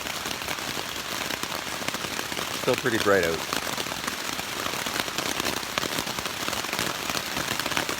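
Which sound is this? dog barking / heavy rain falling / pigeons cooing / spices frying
heavy rain falling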